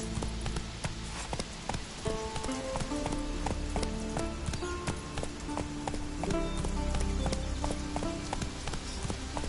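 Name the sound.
horse galloping hooves in video game The Witcher 3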